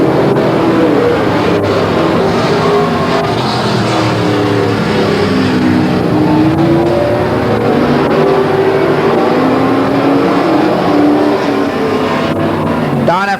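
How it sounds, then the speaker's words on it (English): Super Sport race cars roar around Willamette Speedway under green-flag racing, their engines a loud continuous drone that swells and fades as they pass, with an announcer talking over the noise. "Green flag out, underway and racing once again"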